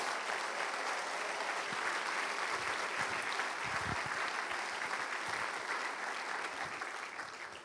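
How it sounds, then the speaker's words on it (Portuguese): A church congregation claps together in sustained, dense applause that stays steady and full throughout before easing slightly at the very end, with no talking over it. "Agora dá ao Senhor uma linda salva de palmas."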